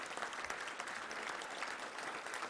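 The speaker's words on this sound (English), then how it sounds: "Let's give him a round of applause." An audience at a Little Rock Touchdown Club luncheon gives a guest a round of applause, a steady, even patter of many hands that sounds rather distant and faint.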